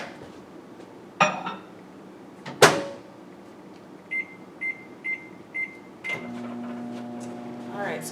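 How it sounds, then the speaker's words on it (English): A microwave oven cooking a mug cake: a couple of clattering knocks come first, then five short keypad beeps, and finally the oven's steady running hum starts near the end. "Alright, so I stuck mine in the microwave for 1 minute and 40 seconds."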